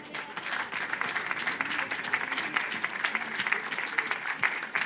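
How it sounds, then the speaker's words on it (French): An audience at an industry and energy-transition event applauds, with a dense, sustained patter of many hands clapping at moderate distance for several seconds. "On peut vous applaudir bien fort."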